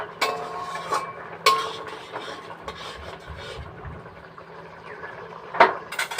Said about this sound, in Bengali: একটু নাড়িয়ে চাড়িয়ে দিই